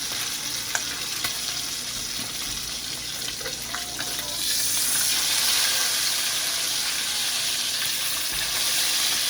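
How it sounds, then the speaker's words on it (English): Bacon frying in a pan, a constant crackling sizzle with occasional pops and stirring scrapes, swelling louder partway through as the strips are flipped. "Flip this bacon. It's crispy now."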